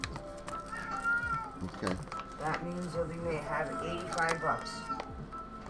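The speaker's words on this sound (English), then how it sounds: "Sorry about the cat in the background" A house cat meowing loudly and repeatedly in the background while a person talks over it, the cries rising and falling in several drawn-out calls.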